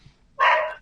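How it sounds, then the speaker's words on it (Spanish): A single dog barks once nearby, a short, loud burst that breaks a quiet background indoors at home. "Ladra el perro."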